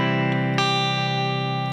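A sustained, ringing guitar note on the open first string, joined by a fresh plucked note partway through that rings on steadily with a soft, slightly effected tone, played alone in an easy chord-melody arrangement.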